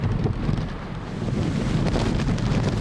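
Typhoon wind gusts batter the microphone at Hung Hom Pier, producing a loud, continuous roaring rumble that swells and eases without letting up.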